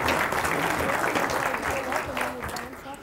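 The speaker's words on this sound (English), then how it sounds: "Let's give her a big round of applause." Audience applause at a physics demonstration show, a steady dense wash of clapping from a crowd, fairly loud and continuous, with a few voices mixed in and fading slightly toward the end.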